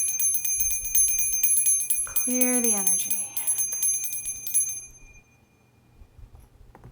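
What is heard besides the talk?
small hand bell ringing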